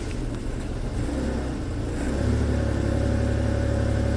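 A Ford Ranger pickup engine running rough and rich while in gear, a steady close low droning rumble that settles and grows slightly louder and smoother partway through, with no voices.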